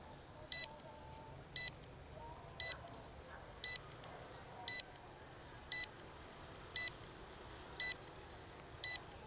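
A MY-MAX M105 drone emits short, evenly spaced electronic beeps, about one per second, during its return-to-home flight, repeating steadily over low background noise.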